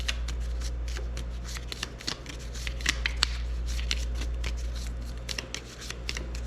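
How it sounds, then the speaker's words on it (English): A deck of event cards for a naval wargame is shuffled by hand, giving a steady stream of quick, close riffling clicks and slaps over a low constant hum, with no talk. "Now we have to shuffle our decks, it says."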